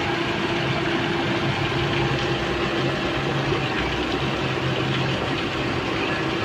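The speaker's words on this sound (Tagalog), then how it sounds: "Pag-dosing, pinandar ko ulit yung makina" The engine of a Mitsubishi Adventure runs at a steady idle after being restarted during a cooling system flush, a constant low rumble with an even hum and no revving.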